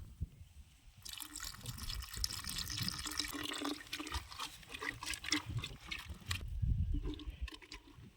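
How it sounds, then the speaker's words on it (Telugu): Water running and splashing while rinsing out the hollowed inside of a cut pumpkin, a steady close trickle and spatter that builds after a quiet start and carries on without talk. "ఆ లోన్ ఇప్పుడు కొంచెం వాటర్తో అయితే క్లీన్ చేసుకోవాలి"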